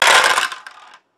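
Five dice rolled for a Zombicide board game, a short clattering burst of tumbling and skittering that settles into a few light clicks and stops within a second.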